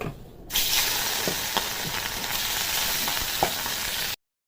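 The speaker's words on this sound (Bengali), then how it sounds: "এই তেলে বাকি মাছগুলো ভেজে নেব।" More rohu fish pieces fry in oil left from frying potol, producing a loud continuous sizzle with scattered pops and spatters before stopping abruptly near the end.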